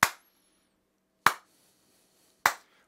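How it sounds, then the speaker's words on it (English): Three sharp, isolated hand claps in a quiet room, evenly spaced about a second apart, each with a short decaying tail revealing the room's acoustics. "you can walk around your room and you can clap"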